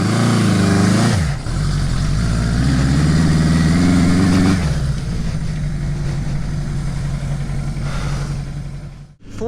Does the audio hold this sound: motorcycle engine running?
yes